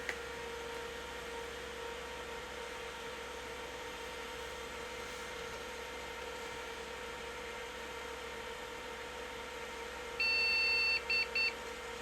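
Over a constant electrical hum, a Pentium III workstation motherboard gives one long beep followed by a few short beeps near the end, with no display, clear and fairly close.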